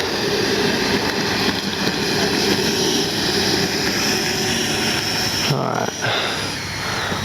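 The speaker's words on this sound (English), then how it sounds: "I love that deep throaty 90mm." FMS Avanti S 90mm electric ducted fan RC jet flying, a loud steady broadband whoosh and whine held throughout with a brief dip near the end, while people talk underneath.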